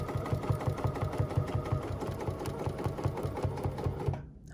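A sewing machine stitches an embroidery sampler, giving off a fast, even mechanical chatter of repeating needle strokes, close and steady, before it stops abruptly near the end.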